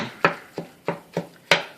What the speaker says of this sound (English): we're chopping it up. When with the ground beef, you want it chopped up pretty good, but not too small.